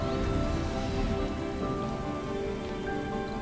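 Rain falls steadily across an undomed Martian landscape in the game Surviving Mars, a dense, even patter of drops lying under a sustained low musical drone, no speech present.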